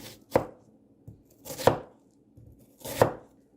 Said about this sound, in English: I'm going to start first by chopping our onion